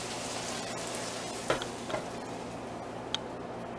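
Bacon fries in a pan with a continuous near sizzle, broken by a few small ticks and clinks, and nobody speaks.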